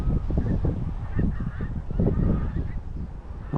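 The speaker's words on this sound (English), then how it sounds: "the pink-footed geese" A noisy flock of pink-footed geese in autumn, arriving in thousands at the basin near Montrose, honking continuously in overlapping calls over a steady outdoor rumble.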